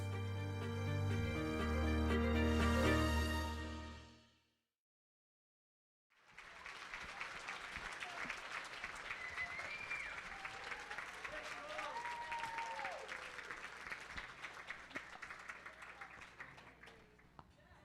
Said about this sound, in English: Could we give you a round of applause?